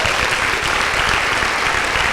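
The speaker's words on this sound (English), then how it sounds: "And give that a round of applause alone." An audience at a high school tech camp event gives a round of applause, a dense, steady wash of many hands clapping throughout with no voices on top.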